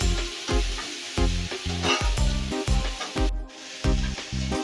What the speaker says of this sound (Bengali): মাংস যেমন ভাবে কষানো হয় ঠিক সেভাবেই এই এঁচোড়টাকে কষিয়ে কষিয়ে রান্না করতে হবে।